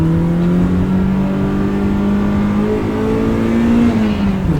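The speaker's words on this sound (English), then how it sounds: "Car sounds cool, exhaust is super quiet, it's got an Eisenman muffler on it, stock cats and everything" Car with a quiet Eisenmann muffler and stock catalytic converters drives along, its exhaust a smooth, steady hum that rises and falls gently in pitch, heard up close with no talking.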